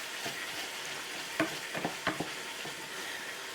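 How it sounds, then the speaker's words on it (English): Tomato frying in oil in a pan, a steady close sizzle with a few stirring knocks and scrapes scattered through. "And we'll just fry that up for a bit."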